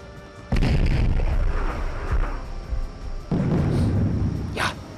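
Cannons fire in the video game Risiko, deep booming blasts with a sudden loud onset, a rumbling sustain and a second heavy boom a few seconds later.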